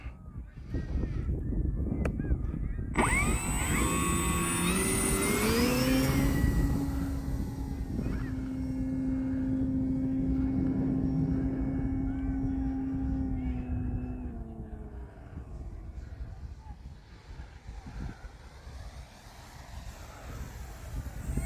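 A Flex Innovations Mamba 60E electric RC airplane flies overhead, its steady motor whine rising then holding at a sustained pitch before fading as it passes farther off, with outdoor ambience and no talk.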